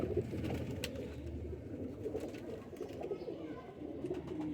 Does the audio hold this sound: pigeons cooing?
yes